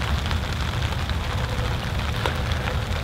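Heavy rain pounds a tarp shelter in a steady, dense, unbroken hiss with a low drumming rumble, loud and close, with no voices.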